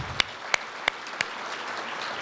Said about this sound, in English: quick little round of applause for my team at Drag Illustrated